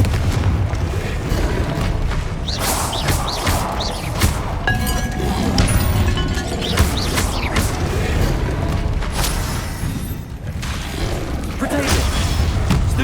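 Spell explosions burst through a Hogwarts Legacy video-game fight, dense booms and crashing impacts stacking up continuously under a steady, loud wash of battle noise with no clear pauses.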